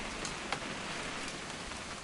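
Steady rain falls on a hunting trip, a dense, even hiss of drops with a faint patter throughout and no voices.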